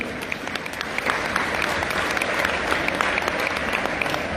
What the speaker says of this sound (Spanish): El aplauso para ellos también.